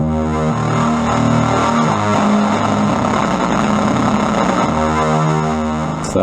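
A Casio CTK-6000 keyboard sounds sustained notes through heavy distortion, a loud, gritty, buzzing tone that holds steadily for several seconds.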